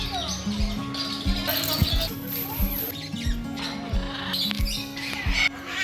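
Parrots at Gazipur Safari Park give repeated shrill squawks and chirps over a busy, noisy background, with low clattering thumps and distant voices mixed in.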